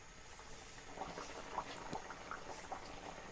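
Ragi burelu, finger millet and jaggery sweets, deep fry in hot oil with a soft, continuous bubbling and small popping blips. The sound is quiet and close, with no voices.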